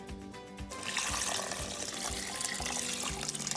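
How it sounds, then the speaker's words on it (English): Water gushes steadily into a pot of simmering beef with locust bean powder for egusi soup, a loud, continuous splashing pour close by that starts after a moment of bubbling and runs to the end. "Okay, add some more water."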